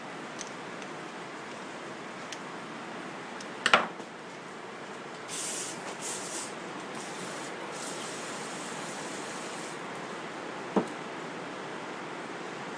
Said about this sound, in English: Sounds like it's starting to pour out there.